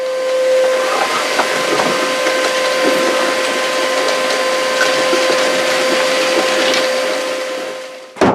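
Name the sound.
hoover running through homemade cyclone dust extractor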